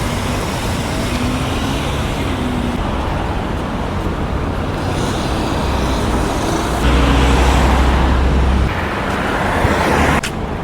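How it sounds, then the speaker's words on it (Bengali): Cars in a parking area near DIFC in Dubai, a steady loud wash of road traffic and engine hum with a louder swell as a vehicle passes close, no talk. "এটা একটা পার্কিং এরিয়া।"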